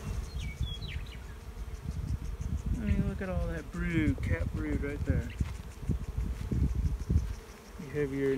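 Bees buzz at a hive in a steady, dense drone close by, with someone talking over the swarm for most of the stretch.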